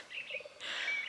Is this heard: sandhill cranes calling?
yes